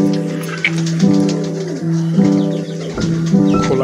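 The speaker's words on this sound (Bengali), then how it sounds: "এই জন্য মোটামুটি কবুতরগুলোও এক পাশ থেকে আরেক পাশ উড়ে উড়ে যাচ্ছে এবং বসছে" Pigeons of several fancy breeds cooing and fluttering at feeding time in an open space, steady layered low coos repeating close by with wingbeats as birds fly from side to side and settle.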